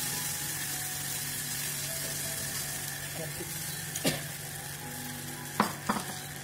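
An egg and flour snack fries in a pan with a steady, even sizzle, broken by a few light clinks of a utensil, and a voice speaks now and then.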